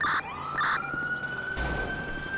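Police car siren in a roleplay video game, a brief two-tone wail then a steady rising tone, loud and close, followed by a crash-like burst.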